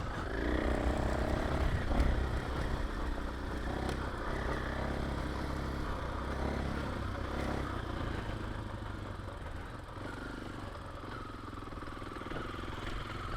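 A KTM 500 EXC-F dirt bike is ridden along basic single track in second gear, its engine droning steadily with a low rumble, mixed with rattling clatter and wind noise close by.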